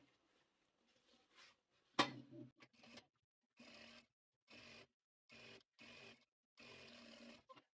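A domestic sewing machine stitching back over an existing seam on a fabric pouch, running in short bursts of mechanical whirring and needle clatter separated by quiet pauses, heard close and alone.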